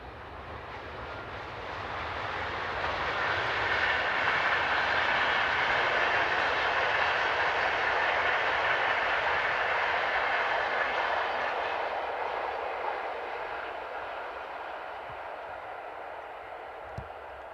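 An ES64U2 electric locomotive hauls a southbound intercity train out of Hamburg past the listener, a broad rushing roar of wheels and carriages that swells, holds steady, then slowly fades as it recedes.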